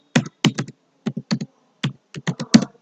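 Close, crisp keystrokes on a computer keyboard while typing HTML list code, in short irregular bursts of taps separated by brief pauses.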